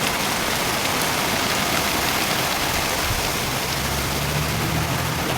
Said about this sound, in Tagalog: Lakas na ulan, oh.